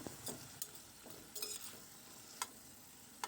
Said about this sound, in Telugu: 1/2 టీ స్పూన్ పసుపు వేసుకుని ముక్కలకి పట్టేలాగా బాగా కలుపుకొని నూనెలో ఇలా మగ్గించుకోవాలి